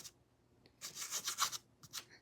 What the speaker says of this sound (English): I'm going to try my bestest to do some distressing beforehand here.